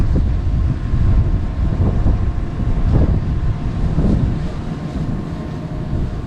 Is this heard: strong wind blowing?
yes